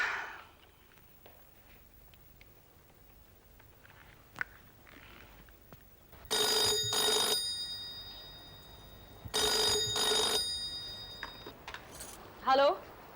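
A telephone rings in two separate bursts, each about a second long, fairly loud against a quiet indoor background; a short voice sound follows at the very end.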